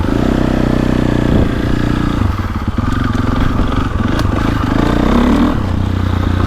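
A KTM 450 Factory Edition motocross bike engine runs steadily close by with a smooth roll-on power map, holding a constant loud drone with a brief dip and slight rise in revs, no talking.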